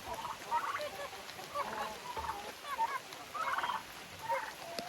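Turkeys out in the rain on their outdoor run give several short gobbling calls at moderate distance, spaced through the clip over steady rain-like background noise.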